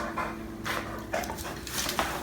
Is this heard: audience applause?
no